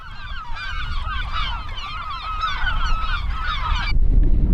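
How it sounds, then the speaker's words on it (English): Wild seabirds on a small offshore island call in a dense, continuous chorus of overlapping honking, goose-like cries, fairly close and loud over wind and water noise, breaking off abruptly near the end. "We made it to Bird Island, but the birds hate us"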